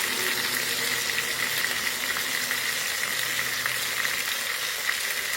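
A ground paste of garlic, onion and ginger fries in a hot pan, giving a loud, dense, unbroken sizzle with a hissing wash and no pauses throughout.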